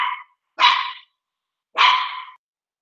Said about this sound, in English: See, I told you my dog wasn't very well behaved.